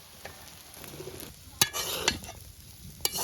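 Meat sizzles and fries in a pan, a steady crackle broken by a few sharp scrapes and clacks of a utensil stirring.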